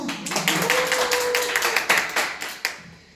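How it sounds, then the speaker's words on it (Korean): A group claps in a short burst of sharp, irregular hand claps, with a brief tonal sound in the middle and a few final claps trailing off. "박수!"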